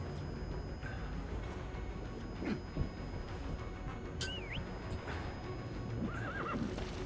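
Horse in the Metal Gear Solid 5 game whinnies twice over steady hoof clip-clop and busy game ambience, moderately loud.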